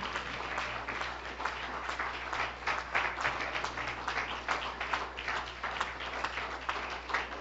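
A church congregation claps along during a song, many hands in a loose, steady rhythm that continues at a fairly distant, moderate level over a low hum, with no talking.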